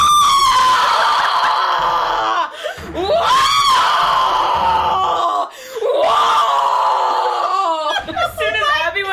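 A loud, drawn-out human scream erupts during a Phoenix Wright Ace Attorney stream, rising and falling in pitch several times, mixed with groans and laughter from the streamers.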